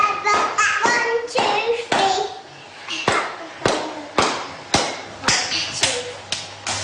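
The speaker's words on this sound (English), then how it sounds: "Clap your hands together" Hands clap in a loose, repeated rhythm of sharp slaps, a dozen or so close claps while a voice is faintly heard in the background.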